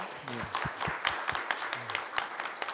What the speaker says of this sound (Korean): 박수 한번 해주시겠습니까?